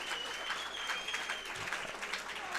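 Spectators at a gladiator fight event clap and murmur throughout, a steady spread of applause and crowd noise heard from a distance at moderate level, with a faint voice mixed in.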